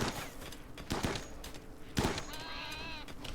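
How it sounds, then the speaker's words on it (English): Gunfire from the video game RimWorld: a few sharp, spaced shots crack out, followed by a short rising animal-like cry, all fairly quiet with no talking. "We'll continue firing until it drops."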